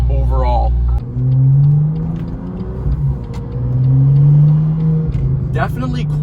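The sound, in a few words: BMW M car engine starting with modified exhaust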